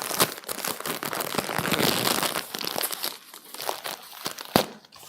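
A disposable menstrual pad wrapper is torn open and crinkled by hand, with busy crackling and rustling plastic bursts up close and sharp snaps near the end.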